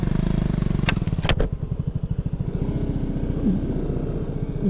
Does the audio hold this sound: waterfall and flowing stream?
no